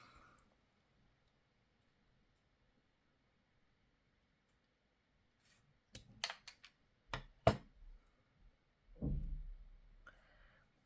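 Scissors snip through paper while a junk journal dangle is being made, giving a few sharp, close clicks and crisp cuts in short bursts, followed by a brief rustle of paper handling and no talking.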